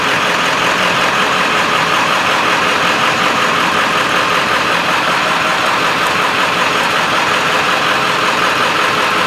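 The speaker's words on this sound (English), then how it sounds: "this raggedy, rough idle smooths out" A 1995 Ford F-250 with a 7.3L diesel idles roughly, with a loud, continuous, close engine drone and an uneven clatter that holds steady the whole time.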